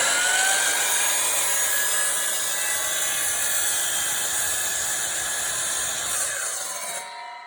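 A power saw, likely a coping or oscillating type, cuts through baseboard trim at a slight angle with a loud continuous high-pitched whine for about seven seconds before stopping abruptly.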